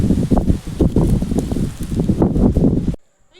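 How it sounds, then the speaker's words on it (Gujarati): Strong evening wind gusts across a house rooftop terrace, a loud, rough, fluttering roar pressing on the microphone in uneven surges before cutting off abruptly near the end. "અને આમ જો પવન વધી ગયું છે પાછું."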